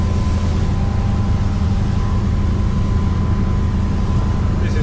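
A Jeanneau NC 37 boat's engine running steadily at about 3000 RPM during a sea trial, a loud, continuous drone with constant low rumble and no breaks.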